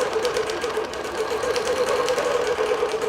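A long arm custom digital quilting machine stitching with yellow polishing thread on top and pink below, giving a fast, even mechanical whir and chatter, loud and close and steady throughout, with no voices.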